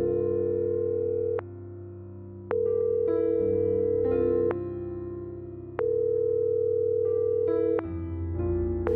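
Steady electronic telephone tones sound while a call goes unanswered, sustained pitched notes that shift in level and step between tones, clear and alone without voices.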